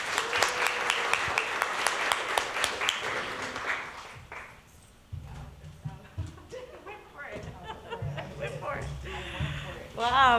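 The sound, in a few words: audience applause for Tashina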